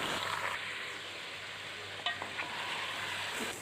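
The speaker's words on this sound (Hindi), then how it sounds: "चिकन को हम भून लेंगे अच्छी तरह से।" Chicken pieces sizzle in a pan over light-brown onions as they are fried, with a steady broadband hiss throughout and a couple of brief stirring clicks, heard alone without talk.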